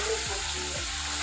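Finely diced potatoes are stirred into frying masala, making a dense, close, continuous sizzle with a couple of low scraping strokes.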